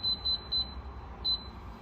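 Control buttons on a Termovad T19 electric convector heater beep with each press: four short, high, clean electronic tones, three in quick succession and one after a pause, quiet over a low background hum.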